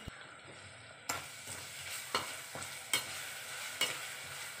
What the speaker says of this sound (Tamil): இப்போ வந்து இஞ்சி பூண்டு விழுத சேர்க்குறோம். அதோட அதையும் போட்டு நல்லா வதக்கிக்குவோம்.